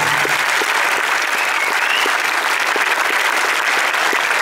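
Steady, dense applause from a cinema audience at a film preview screening, continuous and even throughout with no voices rising above it.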